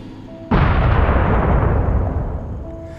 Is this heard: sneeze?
no